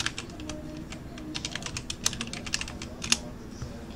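Someone types a search on a computer keyboard, a quick run of light, crisp key clicks at an uneven pace, close and fairly quiet, with no talking over it.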